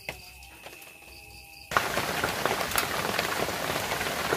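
Bread slices fry in hot oil, a quiet lull giving way abruptly to a loud, steady crackling sizzle that carries on to the end.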